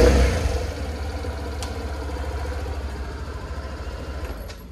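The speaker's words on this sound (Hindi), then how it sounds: "तो कुछ इस तरह से था दोनों स्कूटर्स का साउंड" A Suzuki 125 cc scooter engine idles close by with a low, steady rumble, starting a bit louder and settling into an even hum.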